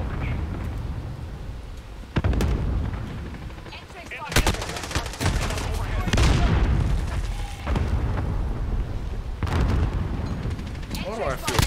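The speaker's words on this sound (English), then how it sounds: "See, that's what stun grenades do." Explosions and heavy gunfire in the Modern Warfare video game, several sharp loud blasts spaced a couple of seconds apart over continuous rattling shots, with a voice talking over the action.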